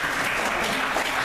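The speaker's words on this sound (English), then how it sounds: "Yes, this is the time you clap here." A room of attendees at a community association board meeting clapping, a brisk even patter of many hands heard close, steady and without a break for about a second.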